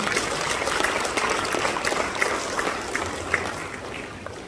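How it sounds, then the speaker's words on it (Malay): A school audience claps for everyone at a Malay-language gathering: a continuous crowd patter with scattered sharper individual claps poking out, fairly loud and even throughout. "Beri satu tepukan kepada semua."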